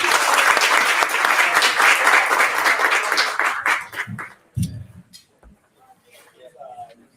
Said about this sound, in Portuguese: Aplausos para o Júlio.